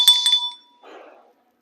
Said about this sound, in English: They are bells.